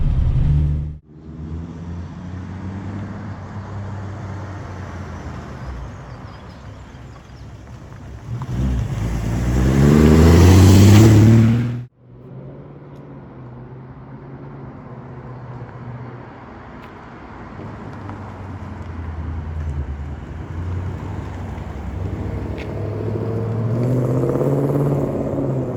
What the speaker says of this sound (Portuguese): E vamos agora pro V8 da 7ª geração.